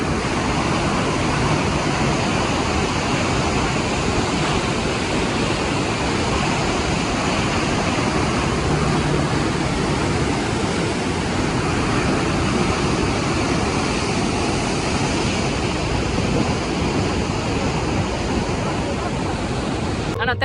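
Strong rushing floodwater roaring as a steady, loud, dense wash of noise that fills the whole clip without letting up.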